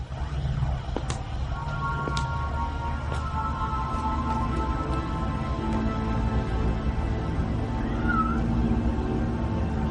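A cat's meow comes faintly through a steady, busy background with low hum and scattered clicks and taps, quiet and somewhat masked over about ten seconds.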